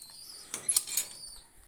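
Pigeons flap their wings over scattered grain, a quick cluster of soft fluttering bursts lasting under a second, faint and close against a quiet background.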